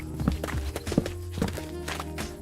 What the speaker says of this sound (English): that dog sounds like a horse running around in here